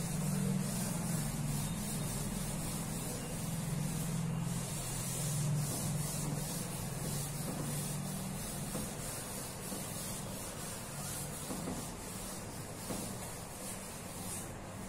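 Chalk being rubbed off a classroom board during an English lesson: a steady, continuous scrubbing sound that runs through the whole stretch at moderate level, alone with no voices.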